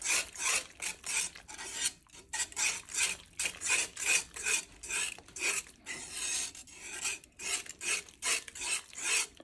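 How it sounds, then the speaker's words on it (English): Creole spice mix stirred in a pot over low heat, a rough scraping rasp repeating in steady strokes about twice a second, close and clear with no talking. "Make sure you now have the temperature on low and give this a good mix"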